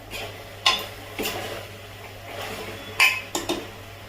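A spoon stirring pav bhaji vegetables with salt inside a pressure cooker, giving a few metallic scrapes and clinks against the pot with faint sizzling between them, close by and without speech.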